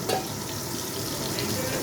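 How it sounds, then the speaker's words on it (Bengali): Pieces of boal fish frying in hot oil in a kitchen pan, a loud, close, continuous sizzle and crackle with faint stirring scrapes, no voices. "এখানে আমি মাছটা ভাজতে ছেড়ে দিচ্ছি।"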